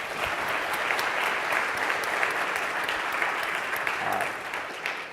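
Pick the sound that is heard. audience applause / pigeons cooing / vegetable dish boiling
audience applause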